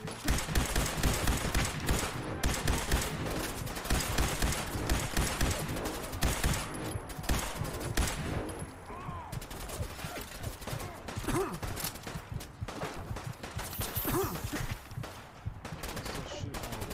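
Sustained gunfire in the video game Fallout 4, dense rapid shots crackling continuously with a few brief vocal sounds mixed in.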